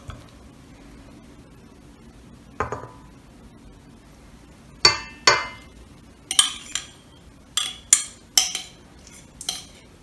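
Bubble bath bar ingredients stirred in a bowl, with sharp intermittent clinks and scrapes of a utensil against the bowl, spaced irregularly over quiet background.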